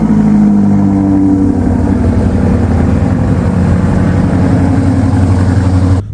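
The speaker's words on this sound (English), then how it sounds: "that's a full Arkapovich exhaust." A car engine fitted with an Akrapovič full exhaust holds a steady, deep, throaty drone close by, running evenly for about six seconds before cutting off abruptly, with no talking.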